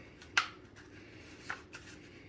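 A paper square is folded for a paper airplane, giving two brief, crisp crackles of paper close by against near silence.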